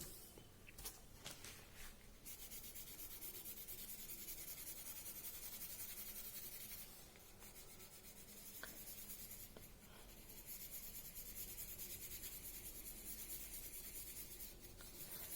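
Soft, steady rubbing and scratching of a soft charcoal pencil smudging on paper, continuous and quiet, with brief pauses and a few louder strokes.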